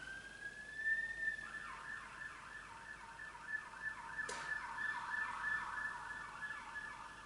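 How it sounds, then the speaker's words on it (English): A wailing emergency siren rises and falls repeatedly in the distance, faint but clear over quiet background. "we've got a siren going"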